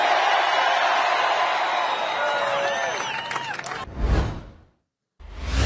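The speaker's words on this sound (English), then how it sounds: "You're still here yelling and screaming." A political rally crowd at the Jersey Shore in Wildwood, New Jersey, yelling and screaming in a sustained loud roar with whoops and cheers. It cuts off abruptly, and a couple of heavy thumps follow.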